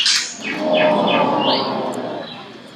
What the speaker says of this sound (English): Oh, it's another bird.